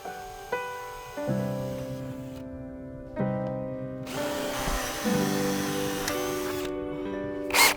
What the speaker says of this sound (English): we're going to be just simply drilling our hole and then installing our nuts and bolts after that